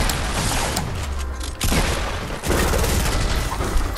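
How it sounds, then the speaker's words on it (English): Dense, continuous gunfire in a squad-based shooter video game, with sniper shots aimed at an enemy holed up in a turret, firing steadily and loud throughout with brief dips between bursts. "snipe that kid out of the turret"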